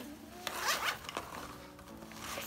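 A zipper on a school backpack compartment is pulled open in a few quick, rasping strokes close by, with faint room noise underneath.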